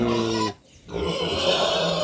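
A hungry pig in a rural backyard squealing and grunting loudly at close range, with one brief pause before the harsh, strained cries resume.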